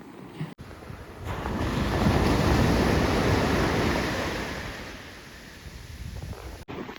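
Sea surf on a beach where clams are gathered, a broad wash of breaking waves swelling loudly and then easing, with heavy wind buffeting the microphone and no voices.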